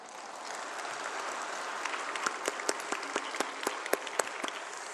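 A church congregation applauds together in a steady, dense roar of clapping that swells slightly, with a few sharper individual claps standing out near the end.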